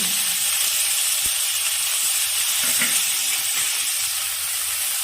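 Chital fish frying in hot oil gives off a steady, loud sizzle and hiss that fills the whole clip, with a brief clink or stir near the middle and no talk.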